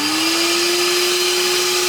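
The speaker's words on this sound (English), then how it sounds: "So then what I'll do is I'll turn my vacuum on." A vacuum seeder's suction pump switches on in a greenhouse, giving a steady, fairly loud motor whine with a constant tone and broad airy hiss, running continuously with no talk.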